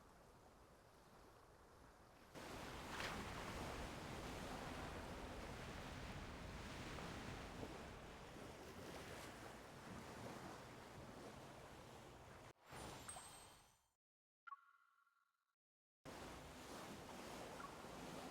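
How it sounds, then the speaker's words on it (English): Steady roar of video game ocean surf washing in broad continuous waves, loud and close, cutting out abruptly near the end before returning. "The sound of the waves seems to be getting louder."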